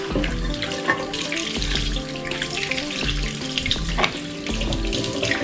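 Tap water runs and splashes while ponytail curls are rinsed under it, a continuous spattering flow with periodic low thumps and shifts as the hair is moved through the stream, with no speech.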